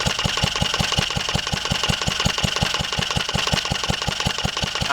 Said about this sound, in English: I ain't going to run it for very long, I just want to get the oil hot so I can drain it out.